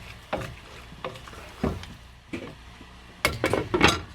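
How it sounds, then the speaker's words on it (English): Several light clanks and clinks of a pot lid being handled and set back on a cooking pot of simmering vegetables, sharp scattered knocks with a brighter cluster of clatters near the end. "I'm going to put the lid back on"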